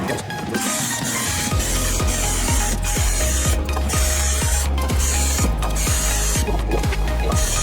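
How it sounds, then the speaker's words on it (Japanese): A herabuna fishing float's leg being filed by hand, heard as a steady run of short, close rasping strokes repeating about three times a second without pause. "次は、この足を削っていきたいと思います"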